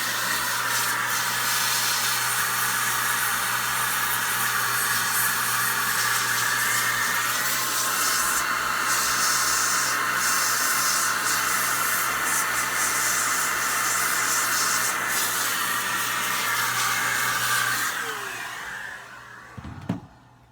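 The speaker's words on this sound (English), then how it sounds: "Then, you need to blow some air through it. I use this DataVac electric duster." A DataVac electric duster blows a strong, steady rush of air into a first-generation 12.9-inch iPad Pro, a loud continuous hiss and whine that holds for about eighteen seconds before cutting off.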